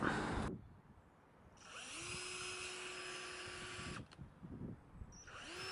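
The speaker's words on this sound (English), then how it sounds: "here I was doing a bit of drilling for the mortise" A power drill whirs steadily into wood for a couple of seconds, drilling a mortise for a trebuchet, stops, then starts again briefly; fairly quiet and close, with no talking.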